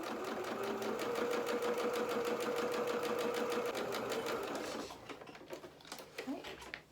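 A sewing machine runs a line of top stitching along a hem in a fast, even stream of needle strokes, then stops and leaves a few faint handling clicks.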